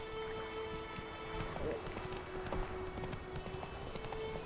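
Roach, the horse in The Witcher 3 video game, running with rapid, steady hoof clip-clops over a constant background hum while a voice speaks over it.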